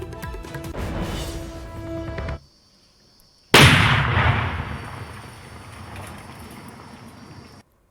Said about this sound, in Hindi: सुरक्षा बलों ने आईईडी बम को नष्ट किया है।